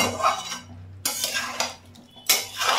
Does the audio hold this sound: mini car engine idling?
no